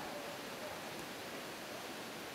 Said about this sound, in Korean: 시원스레 쏟아지는 폭포의 물줄기는